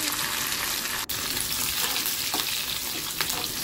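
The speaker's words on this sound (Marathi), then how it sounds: "हे सगळं तेलात परतून घ्या।" Mustard seeds, curry leaves, garlic and finely chopped green chillies fry in hot oil with a loud, continuous hissing sizzle that stays close and constant throughout.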